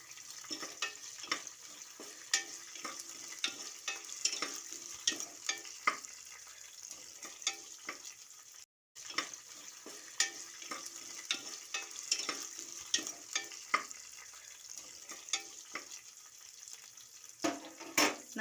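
Green chillies stirred and fried in a hot pan while making veg palav, a steady crackling sizzle with repeated sharp scraping stirs across the whole stretch, one brief gap midway.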